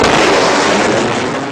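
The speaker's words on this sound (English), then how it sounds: "Aircraft actually usually produce two booms." A sonic boom from a supersonic aircraft arrives as a loud, sustained broadband roar that fills the whole moment and tapers only slightly, with no separate second boom audible.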